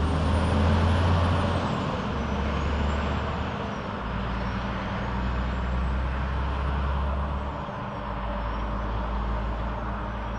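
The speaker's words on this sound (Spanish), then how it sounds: "Escuchá como zumba el turbo." Volvo FM 520 I-Shift truck running with a loud, steady engine drone and a high rising-and-falling turbo whine layered above it throughout.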